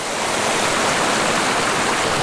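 A tiny mountain creek, a fished stream holding cutthroat trout, rushes close to the microphone in a dense, steady broadband wash of water with no pauses or voices.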